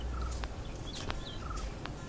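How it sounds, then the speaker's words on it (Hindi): Birds chirp near a calm beach on Shiroda's coast, with short high calls and whistles scattered across the moment over a steady low rumble of surf or wind. "अगर आप सुन सकते हो तो ये you can hear the bird chirping."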